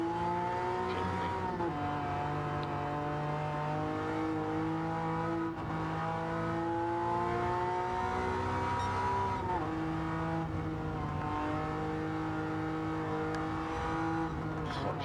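A Suzuki Jimny's small engine drones and revs through gear changes while being driven in a racing game, steady and close, pitch climbing and dropping at each shift.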